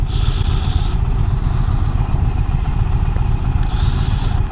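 An Indian Challenger motorcycle engine drones steadily while riding, a loud, continuous low rumble mixed with wind noise that holds for the whole stretch without a break.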